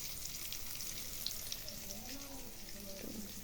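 Fish pieces fry in hot oil in a home kitchen, a continuous soft sizzle with faint stirring and clinks, fairly quiet and close.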